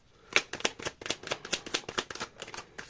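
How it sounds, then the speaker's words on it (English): A deck of tarot cards is shuffled by hand in a quick run of crisp, close riffling slaps and flutters, about a dozen rapid bursts with no talking. "Okay. Last shuffle."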